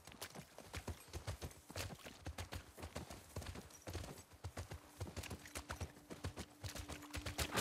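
Steady clip-clop of horse hooves at a walking pace in The Last of Us Part II Remastered, close by, with faint background ambience and no clear talk.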